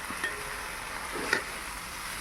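Green gram thoran with onion, coconut and chilli is stirred in a pan over a soft, faint sizzle, with a couple of light spoon scrapes.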